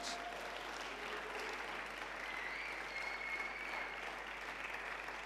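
A church congregation applauds its worship team in a steady, full round of clapping, with a faint whistle rising briefly above it.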